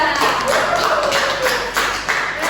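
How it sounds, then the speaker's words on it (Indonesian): Children clap their hands together in a sustained round of applause in a school classroom, loud and steady, with the clapping swelling and dipping over a few seconds. "Kita tepuk tangan untuk kelompok 3."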